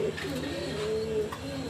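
Pet pigeons cooing close by in a steady low murmur, one soft coo following another.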